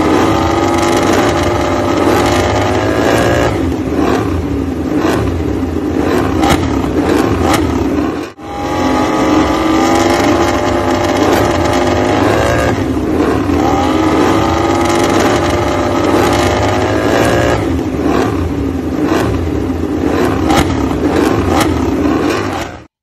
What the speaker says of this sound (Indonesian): ini suara dari Honda RC213V